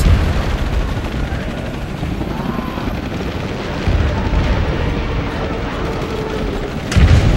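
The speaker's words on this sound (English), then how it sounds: "More helicopters." Helicopters in the video game Shadow of the Tomb Raider thrum in a constant loud rotor drone with rumbling gunfire and booms mixed in, a heavy blast near the end.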